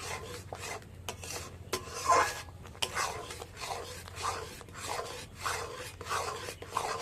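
A spatula works steadily through a thickening milk mixture for doodh komla, giving continuous rasping, scraping strokes in a quick repeating rhythm against the pan, close and fairly loud.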